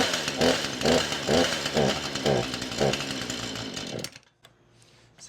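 A chainsaw with a HIPA carburetor and a suspected hardened diaphragm from old fuel runs loudly and roughly for about four seconds with pulsing revs, then cuts out to near silence.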